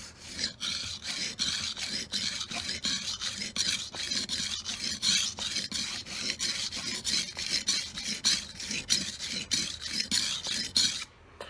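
A knife is sharpened on a wet whetstone in steady, evenly repeated rasping strokes, close and loud with no talking.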